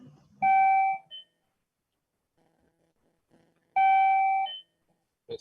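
A wireless doorbell rings twice, each a clear electronic chime tone lasting under a second, with a short silence between them.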